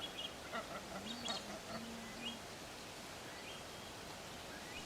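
Orinoco geese in the Colombian llanos give a few short honking calls in the first two seconds, faint against a steady wash of background noise.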